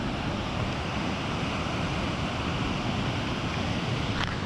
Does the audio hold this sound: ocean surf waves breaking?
yes